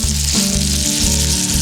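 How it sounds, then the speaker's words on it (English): Steady, loud sizzling of tenderloin steak searing in a hot pan, a continuous crackling hiss with a low hum underneath. "Nice and hot, start forming a crust. That sizzle away, very nice."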